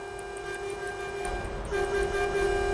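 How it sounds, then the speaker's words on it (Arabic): A truck air horn blowing in American Truck Simulator, a steady, loud, sustained multi-tone blast that holds for the full stretch and swells slightly louder near the end, with no talking. "زرار الكلاكس اللي هو الاير هورن،"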